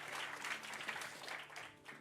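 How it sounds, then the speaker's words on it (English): Audience at a technology conference keynote session giving a sustained round of applause, a soft, even wash of many hands clapping at a distance. "Big round of applause."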